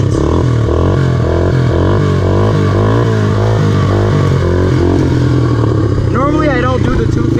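A Honda 300EX ATV engine revs loud and continuous while being ridden hard, the pitch rising and falling through throttle changes, with a voice briefly audible near the end.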